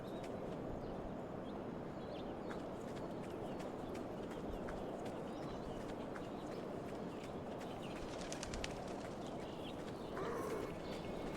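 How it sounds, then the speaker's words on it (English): Hooves of a horse in the Humanitz survival video game clip-clop steadily at a gallop, carried under a dense, continuous bed of ambient noise, with a few faint bird-like chirps near the end. "Hey, got another horse here."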